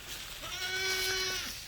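Goats in a herd as yearling does join the main group, with one clear nasal bleat rising over a faint background of other animals.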